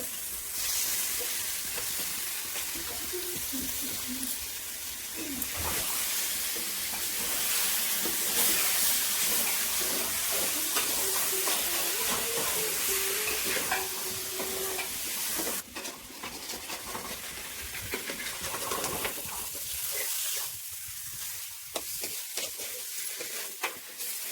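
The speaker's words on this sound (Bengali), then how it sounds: "মশলা ভাজা হয়ে গেছে চিকেনটা দিয়ে দিলো" Chicken added to fried spices in a hot pan, sizzling and hissing steadily with occasional stirring scrapes, close and continuous for a long stretch without talk.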